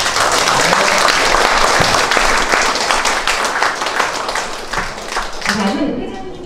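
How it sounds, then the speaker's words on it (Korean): Sustained applause from an indoor audience at an art exhibition, dense steady clapping that slowly thins toward the end, with a voice faintly heard under it. "박수 한번 치십시다."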